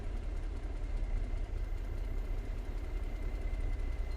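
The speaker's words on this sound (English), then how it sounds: "Shut the engine down." A Kenworth T600 truck in American Truck Simulator idles with a steady, deep rumble that stays constant and fairly loud throughout, with a faint high whine on top.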